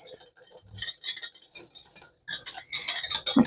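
A wire whisk scrapes and clinks against a pot as thickening polenta is stirred, giving irregular metallic rattles and taps close by with brief pauses.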